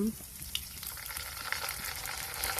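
Ground coriander root and pepper stir-fry in hot oil, giving a steady, fairly quiet sizzle with a few faint scraping stirs.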